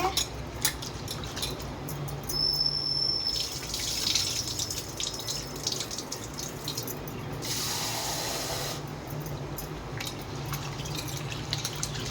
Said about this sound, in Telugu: ఇలా వాటర్ వేసుకొని నానబెట్టుకోవాలి.